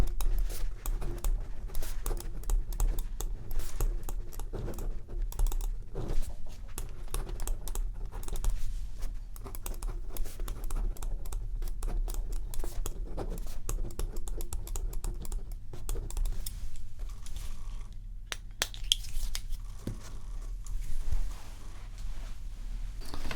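A luxury ballpoint pen scratches across paper in a steady, close, quiet scribble, set in a pen store, with soft rustles of handling, continuous throughout and free of talk.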